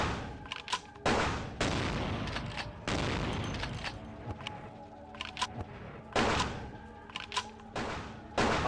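Repeated bursts of gunfire in Vampire: The Masquerade - Bloodlines, loud broadband shots recurring in clusters across the clip, with some short gaps and game ambience between volleys.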